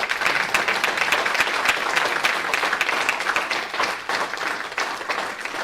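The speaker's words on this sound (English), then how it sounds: "let's give a round of applause to our guests here, and a huge round of applause for Retro TV Project" A conference audience at a panel session breaks into sustained, even applause, dense clapping that stays loud for the whole stretch and eases slightly near the end.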